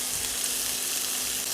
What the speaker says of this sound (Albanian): Në kohën që skuqet mishi